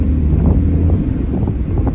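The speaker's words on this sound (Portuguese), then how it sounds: "Nossa, que tanto de vento." Wind roaring through a car with its windshield removed while driving, a loud, continuous buffeting rush with gusty fluctuations and no talk.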